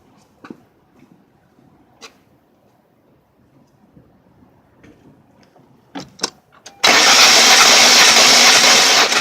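A Ford ZX2 engine with no spark cranks steadily on the starter during a compression test. A few light clicks and handling noises come first, then a loud, continuous cranking whir sets in and holds to the end, with no talk.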